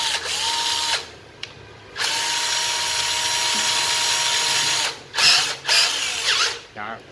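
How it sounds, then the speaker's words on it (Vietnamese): A used Japanese cordless battery drill runs on its slow first speed setting in several steady whirring bursts, with pauses and a few short rattling pulses near the end. "Rồi khoan thì dặn hết qua, chúng ta vẫn khoan bình thường ha."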